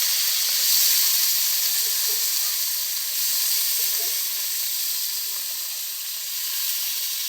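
Eggplant and potato pieces sizzle in hot oil for a green jackfruit curry, a steady, fairly loud hiss that holds evenly for several seconds with no talking.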